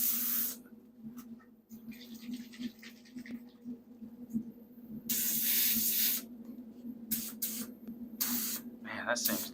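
An airbrush sprays silver paint onto a Cowboys football helmet, a near hiss that comes in several bursts of varying length over a low steady hum, with someone talking at times.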